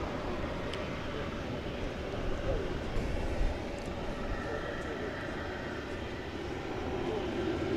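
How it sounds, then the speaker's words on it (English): An American Airlines Airbus A321 arrives at Dallas Fort Worth at night, a steady low engine roar that swells briefly midway, distant and moderately faint. "An Airbus A321 coming up next."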